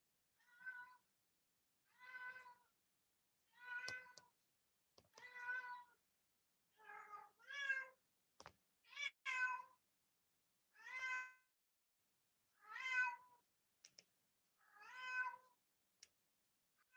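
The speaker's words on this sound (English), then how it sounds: "Oh, heard a cat. You hear the cat." A cat named Simba meows repeatedly, a dozen or so distinct calls spaced out at a steady pace, clear and fairly close against a quiet background.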